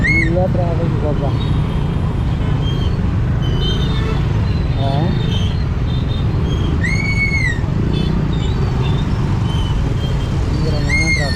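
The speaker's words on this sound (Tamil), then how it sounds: "பயங்கரமான டிராஃபிக் இருக்குது" Dense, heavy road traffic on a busy city street, with a continuous low engine rumble, passing vehicles and scattered horn toots near and far throughout.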